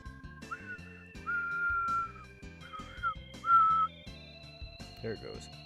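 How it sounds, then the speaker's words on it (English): A person whistles in short, wavering held notes, four or five tries separated by pauses, close and fairly clear over a low background of soft tones. "I cannot whistle, chat."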